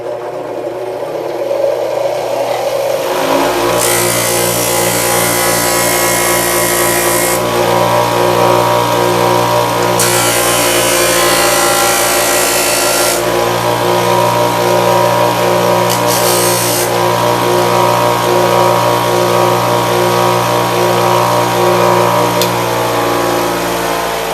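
Power sander shaping wood strips for ultralight aircraft ribs, spinning up and running with a loud steady whine, its tone rising and falling as the wood is pressed in and eased off, with no talk.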